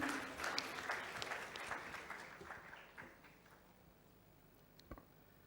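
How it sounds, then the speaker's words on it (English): An audience at the Tech 2018 conference in Visakhapatnam applauds as a speaker is welcomed, the clapping loudest at first and then thinning into scattered claps that fade out, with one sharp knock near the end. "Let's welcome him with a huge round of applause,"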